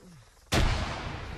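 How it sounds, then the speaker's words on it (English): A grenade thrown into a bush in the military shooter Arma 3 goes off as a single sudden, loud blast with a booming low rumble that fades over the next second. "just throwing a grenade in the bush"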